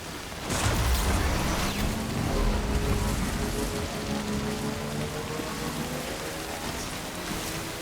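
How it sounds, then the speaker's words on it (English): Heavy rain downpour in the video game Death Stranding, a dense constant hiss of falling rain that swells in after a short quiet start and holds steady, with low rumbling underneath. "Very hard to see in this downpour."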